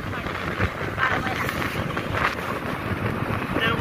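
Strong wind buffets the microphone on a single-lane road near Bor, heading toward the Mandhar Devi temple; a steady, loud broadband rush with gusty swells throughout and no clear talk.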